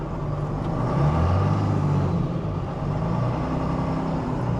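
A car engine idles steadily after a battery replacement, a low, even rumble that runs close and moderately loud for the whole stretch with no voices.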